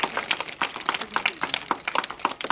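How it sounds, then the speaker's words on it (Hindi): A school audience in Uttarkashi gives a round of applause, with steady, fairly quiet clapping in quick repeated bursts throughout. "एक बार आप सभी के लिए, इस विद्यालय के लिए एक बार जोरदार तालियां बजाएंगे"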